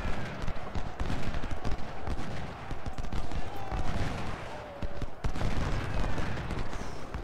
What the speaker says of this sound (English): Artillery's gonna keep pounding.